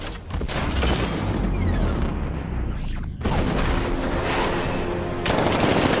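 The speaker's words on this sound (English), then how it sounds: "60mm cannon operational." Heavy tank cannon blasts and booming gunfire roll continuously, loud and dense, with a brief drop in the middle before the barrage resumes, in the video game Batman: Arkham Knight.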